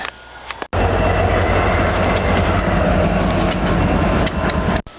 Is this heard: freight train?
yes